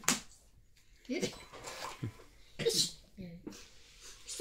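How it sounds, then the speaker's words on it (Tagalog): A single quick sneeze at the start, followed by people talking casually in Filipino over background room noise during a card game. "Ang kahit na ibang bumahing, parang pusa."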